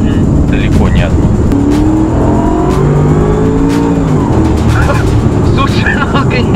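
A Mercedes-Benz SLR McLaren supercar with a 626-horsepower engine accelerates hard, its loud, close engine rising in pitch in sweeping waves that fill the whole stretch under road and wind noise.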